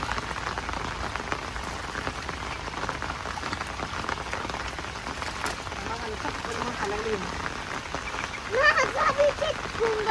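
Heavy monsoon rain pours down steadily, a close, even hiss of drops on surfaces that swells slightly louder toward the end, with no voices over it.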